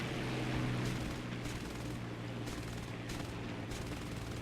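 Aircraft guns chatter in War Thunder while chasing a Mark II Hurricane: several short bursts of rapid fire over a low engine hum, fairly faint overall.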